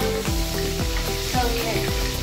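Tomatoes fry in hot oil for a Marathi cauliflower and pea bhaji, a steady close sizzle under faint tonal background music.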